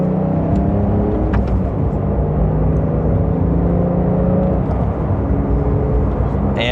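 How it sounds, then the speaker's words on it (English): A Porsche in Sport Plus mode pulls away in second gear with mild acceleration, its engine a steady rising drone with cabin road noise, close and continuous throughout. "And with a mild acceleration,"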